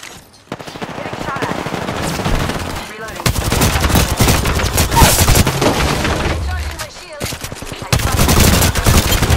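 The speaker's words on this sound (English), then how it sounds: "They're shooting at me." Enemy gunfire in a shooter video game: dense, rapid automatic bursts crackle almost continuously, loud and close, broken by brief pauses, with game voices talking over the shooting.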